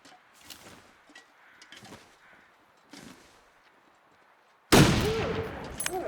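Rifle fire in The Long Dark: one sharp, loud gunshot rings out near the end, followed by a short echoing tail, after quieter scattered sounds.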